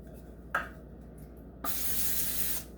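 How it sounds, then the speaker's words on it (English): Two bursts from a non-stick cooking spray can greasing a baking sheet: a short quick puff, then a longer steady hiss of about a second, close by in a quiet room. "lightly grease with a non-stick cooking spray"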